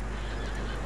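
A horse in Red Dead Redemption 2 gives a single short neigh, close and clear, with no voices.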